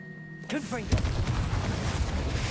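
A Confringo fire spell blasts in Hogwarts Legacy: a sharp burst lands about a second in and is followed by a sustained, rumbling fiery roar. A voice talks briefly at the start.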